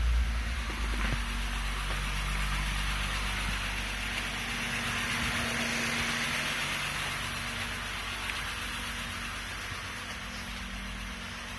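A Honda Elysion engine runs at raised revs during dash removal and an oil and pollen filter change, giving a steady low mechanical hum with a constant hiss throughout, fairly even and close.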